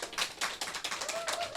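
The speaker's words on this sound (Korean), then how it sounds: "네, 큰 박수 부탁드립니다." A small audience at a regional cultural center training and awards event claps for an award recipient; brief, close, uneven handclaps in quick bursts, with a faint tone drifting in the background.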